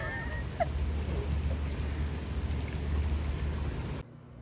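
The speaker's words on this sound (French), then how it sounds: "il pleut de ouf" Heavy rain pours down beside a hotel pool in Miami, a dense steady hiss of drops on surfaces under a low rumble, loud and continuous before cutting off abruptly near the end.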